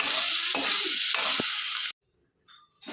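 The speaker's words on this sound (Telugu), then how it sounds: "ఇలా మధ్య మధ్యలో కలుపుకుంటూ ఫ్రై చేసుకోమని చెప్పారు" Oil sizzles hard in a pan with a few stirring scrapes, then cuts to near silence and a faint clatter.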